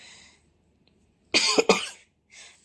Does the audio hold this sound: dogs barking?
no